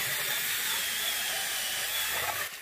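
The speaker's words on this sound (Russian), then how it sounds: "Не, ребят, руками здесь умрешь сверлить. Шуруповерт – отличная вещь." A cordless drill-driver boring holes through frozen lake ice on a winter fishing trip, giving a continuous whirring grind that runs steadily and close, then cuts off abruptly at the end.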